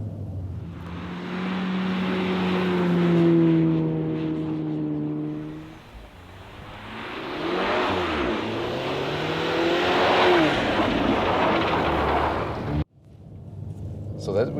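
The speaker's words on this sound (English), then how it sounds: "when, for example, I'm here at the outside of the corner and accelerate out just a little bit, then I can slide out just a little bit with the ESC Sport." A VW T-Roc R SUV accelerates out of a corner on an ice track with ESC Sport engaged, sliding slightly. Loud, close engine revs rise in pitch in repeated surges, then cut off abruptly near the end.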